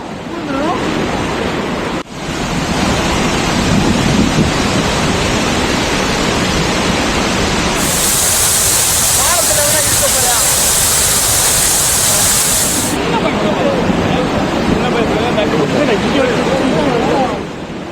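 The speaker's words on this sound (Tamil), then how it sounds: "ஆர்ப்பரித்து கொட்டிய அருவியில் திடீரென்று வெள்ளப்பெருக்கு ஏற்பட்டதால் வனத்துறை சோதனை சாவடி அருகே இருந்த தரைப்பாலம் தண்ணீரில் மூழ்கியது" Chinnasuruli falls gushes during a sudden flash flood, a loud, dense, unrelenting roar of pounding water that fills the whole scene without a break.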